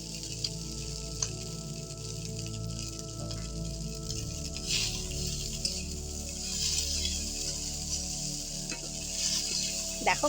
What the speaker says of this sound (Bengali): এগুলো একটু ভালো করে নেড়ে নিয়ে এতে আমি ম্যাগিগুলো দিয়ে দেব